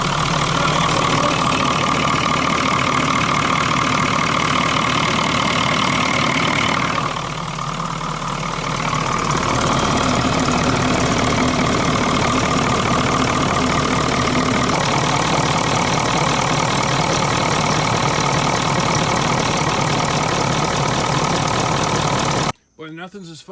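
A Wanderlodge bus diesel engine idles with a steady, loud, close rumble and knocking rattle that continues almost unbroken before cutting off abruptly.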